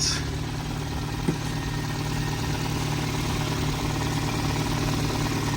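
A used car's 1.2 litre engine idles steadily under an open bonnet, a close, even mechanical drone with a constant low hum and no change in pitch.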